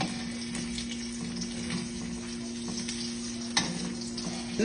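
Garlic frying in a pan for sinangag, a steady close sizzle with light stirring clicks and a constant low hum behind it, no talking.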